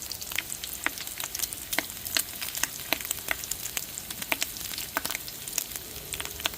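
Bacon sizzles steadily in a frying pan, a dense bed of crackling with frequent sharp pops scattered throughout, close and fairly loud with no talking.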